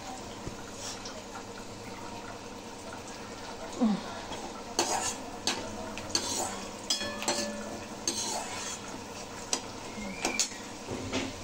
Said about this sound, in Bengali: জিরে ফোড়ন দিয়ে পেঁয়াজ দিয়ে দিয়েছি। নাড়াচাড়া ভালো করে ভাজা ভাজা করবো।